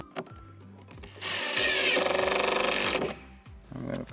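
A power drill driving screws into a back board for a DIY automatic pig watering system, a loud whirring burst of about one and a half seconds between softer clicks and a second short run.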